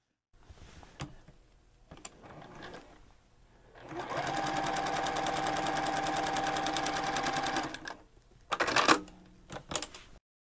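A sewing machine stitches the seam joining the ends of a quilt border strip into a loop. A few short stitching bursts come first, then a steady close whirring run lasts several seconds, followed by brief clatters.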